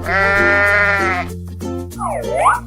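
Cartoonish sheep bleats from a 3D animal video game, a long wavering baa followed by a shorter rising-falling one over steady game background music.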